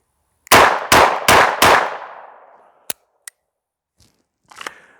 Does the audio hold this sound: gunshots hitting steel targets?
yes